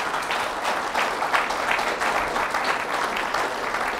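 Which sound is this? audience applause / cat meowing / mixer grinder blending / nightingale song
audience applause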